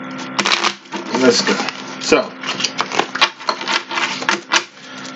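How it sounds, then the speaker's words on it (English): Tarot cards shuffled by hand in quick, crisp riffling bursts through a tarot reading, with a nearby voice speaking briefly over the shuffling. "Alright. Last shuffle."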